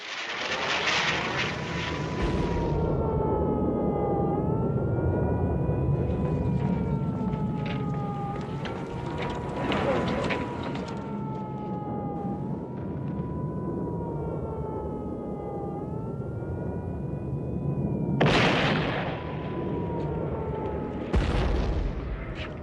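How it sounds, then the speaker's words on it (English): A salvo of Scud missiles launched from mobile launchers in western Iraq during the Gulf War, heard as a long, loud, roaring rush with wavering whine-like tones and sudden bursts, continuous throughout. "a salvo of Scud missiles is fired from mobile launchers in western Iraq"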